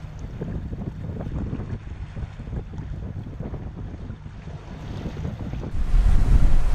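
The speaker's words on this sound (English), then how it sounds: "The wind is light, somewhat on the nose, which is slowing us a little" Wind and waves at sea aboard a sailboat under sail with engines off in light headwind on a calm, fine day, a steady broadband rush with low wash of water against the hull, growing louder and fuller near the end.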